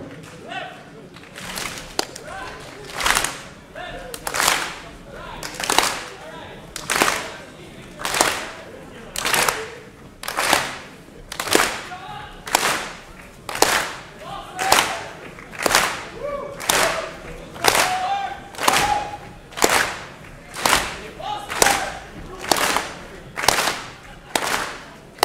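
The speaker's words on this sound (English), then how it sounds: "Let's start with a slow clap." A large conference audience at FOSDEM 2013 performs a slow clap, unified sharp claps landing in a steady, evenly spaced rhythm about once a second for the whole stretch, loud and reverberant.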